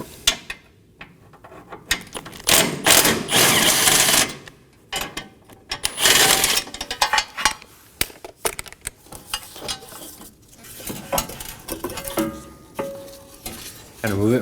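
Bumper bracket bolts coming off a 2020-2027 Toyota Corolla, heard as irregular close bursts of ratcheting, clicking and metallic scraping, with short pauses between them.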